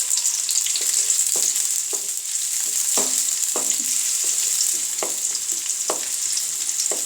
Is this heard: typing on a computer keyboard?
no